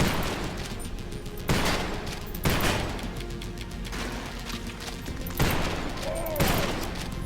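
Gunfire rings out in the video game Garage: Bad Trip during a boss fight, with several loud, sharp bursts of shots at irregular intervals over a dense, noisy game soundscape.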